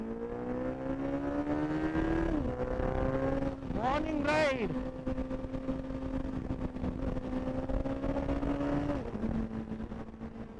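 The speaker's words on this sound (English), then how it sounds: "That bike has Strauss exhaust. Mind-blowing sound." Superbike engine with an aftermarket exhaust droning steadily on a group ride, rising and falling revs, a sharp high-pitched rev burst in the middle, with a short spoken phrase over it.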